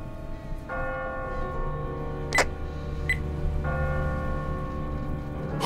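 A church bell tolls in a bell tower in The Walking Dead game, two long ringing strokes spaced a few seconds apart over a low background hum, with a couple of brief sharp clicks in between.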